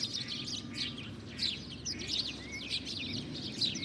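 Several small birds chirp and twitter in quick, overlapping bursts, fairly near, against a faint low background rumble.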